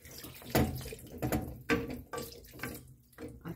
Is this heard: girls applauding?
no